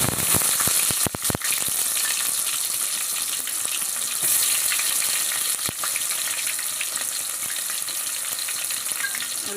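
Onions fry in hot oil with whole spices such as cloves and cinnamon sticks for a drumstick chicken curry, a loud, steady close-up sizzle with a few sharp crackles and stirring clicks near the start.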